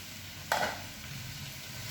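Steamed cabbage stirred in a pot, a single scraping swish of a utensil followed by a soft ongoing simmer and faint bubbling, heard up close without speech.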